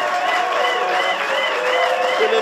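A church congregation applauds and cheers in praise of God, a steady dense wash of clapping and voices filling the whole moment at close range.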